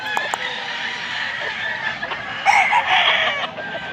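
Roosters and chickens crow and cluck nearby at a Filipino fowl station in Mantalungon, Barili, with overlapping calls and one strong crow rising in the second half.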